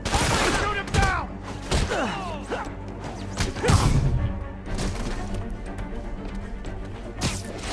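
Gunshots and combat whooshes ring out in a Marvel's Spider-Man fight, with quick bursts, swishes and thuds spread across the clip as voices speak over the action.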